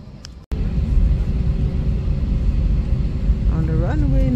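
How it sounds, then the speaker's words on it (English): Airliner on the runway lining up for takeoff, heard from inside the cabin as a loud, steady low engine rumble that starts abruptly and holds throughout. "On the runway now, ready to line up to take off."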